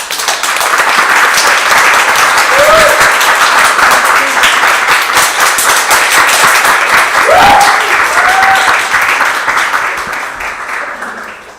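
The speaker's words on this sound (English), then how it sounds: "Applause." Sustained loud applause fills a meeting hall, dense clapping from a large audience holding steady for several seconds before tapering at the end, with a few brief voices calling out over it.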